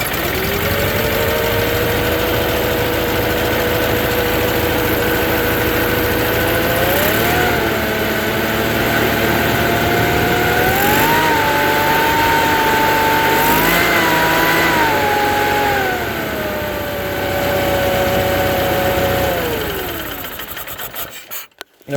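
Onan small engine in a Case Ingersoll garden tractor running steadily after an oil change, with a droning tone that rises and falls through several throttle changes before shutting down at the end; no talking.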